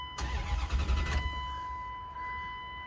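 A car engine cranks for about a second with a rapid starter rhythm, then catches and settles into a steady idle, heard close by with no talk. The car is an SUV being converted into a truck.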